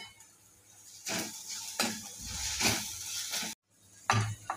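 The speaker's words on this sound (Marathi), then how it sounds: "याला पण आपल्याला तेलामध्ये चांगले फ्राय करून घ्यायचे आहे" Green chili and garlic thecha frying in oil in a kadhai, with a soft steady sizzle broken by several spoon scrapes and stirring knocks, close but quiet, no talk.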